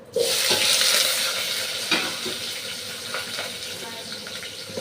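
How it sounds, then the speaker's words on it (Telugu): Thinly sliced onions dropped into hot oil with cardamom, cloves and star anise for aloo biryani, bursting into a loud, steady hiss of frying that eases slightly while a few stirring knocks sound close by. "gold colour golden brown colour వచ్చే వరకు వేయించుకోవాలి"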